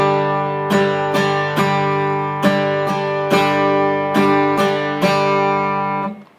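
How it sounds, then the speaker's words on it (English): Strummed guitar chords in a steady down-down-up pattern, each stroke ringing clearly with bright string attacks, played alone before the final chord is cut short. "So this time, what I'm going to do is actually strum some of the strings on the way up"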